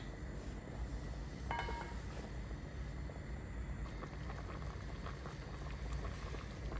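A pot of water with beans, sweet potato and carrots boils at a steady simmer, a soft continuous bubbling and hiss with a faint clink partway through.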